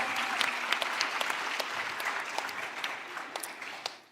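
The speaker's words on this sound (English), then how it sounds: "let's give it a round of applause for native stables in Cosmos." An audience at a crypto conference applauds, with brisk, dense clapping from a seated crowd that stays lively throughout and fades slightly at the end.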